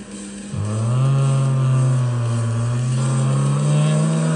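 Car in Car Crash Simulator braking and turning, engine tone dropping then settling into a loud sustained drone with gradual pitch shifts, close and continuous.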